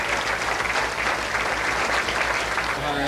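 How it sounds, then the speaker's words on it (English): Audience applauding at an Ohio governor's inaugural event, dense steady clapping from a large crowd filling the whole clip. "I think they deserve a round of applause."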